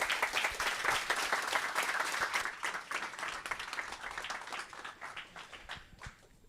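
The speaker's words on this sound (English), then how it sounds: "Applause." An audience at a WarsawJS JavaScript meetup applauding, a crowd of hands clapping briskly and loudly at first, then thinning and fading over several seconds.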